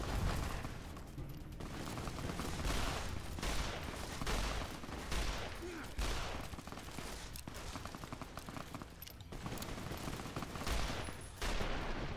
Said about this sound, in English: Why did I pull out the hunting shotgun?